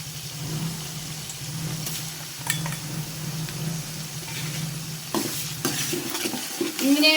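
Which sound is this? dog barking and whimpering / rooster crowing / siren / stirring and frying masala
stirring and frying masala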